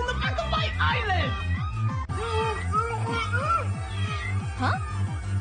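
Cartoon kittens meow loudly and repeatedly in a dense, overlapping chorus, with a steady rhythmic thumping pulse running underneath throughout.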